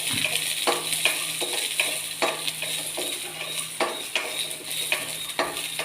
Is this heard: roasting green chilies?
yes